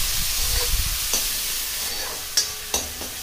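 Finely chopped onions and chili paste frying in a pan, with a soft steady sizzle and a few sharp stirring clinks near the end, close by with no talk.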